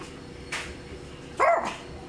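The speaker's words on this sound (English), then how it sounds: "Pep and Dex, can I hear your real bark?" A small dog gives two short, yappy barks, the first brief and the second louder and higher, against a quiet room background.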